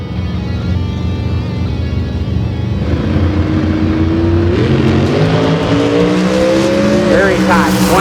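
Drag racing cars launch down the strip at a spring drag racing event, a loud, close engine roar with rising revving tones building over several seconds, while an announcer talks over it.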